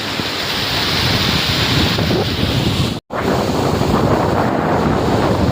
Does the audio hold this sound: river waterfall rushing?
yes